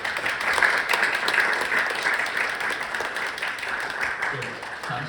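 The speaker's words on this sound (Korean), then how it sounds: "큰 박수를 부탁드립니다." Audience at a political event in Gyeongju claps loudly in a dense, sustained burst that holds evenly throughout, with crowd murmur mixed in.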